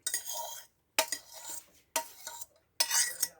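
Steamed cauliflower rice being strained at home, producing four separate bursts of clattering and scraping, each about half a second to a second long, with short silences between.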